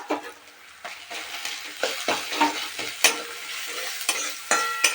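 Garlic, ginger, coriander and grated coconut sautéed in a pan, with a soft oily sizzle and repeated scraping strokes of a spatula against the metal, loud intermittent stirs over a quieter frying hiss.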